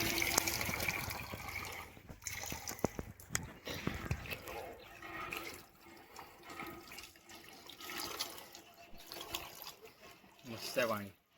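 Water is drawn and poured into containers at a village water source in Murtavade, with splashing and gushing that rises and falls, close by, while people talk throughout.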